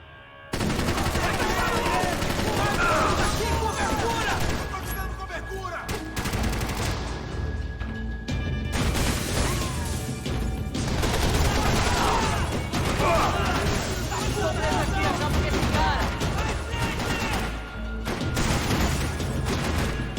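Gunfire from a weapon in Max Payne 3 rattles in loud, rapid automatic bursts separated by brief pauses, with mechanical clatter and impacts between volleys.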